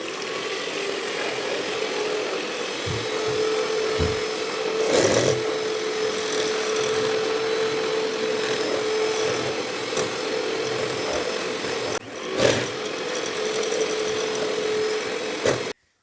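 An electric beater whips eggs for a spongy tea cake batter, giving a continuous whirring hum with a steady tone and a few louder knocks and bumps.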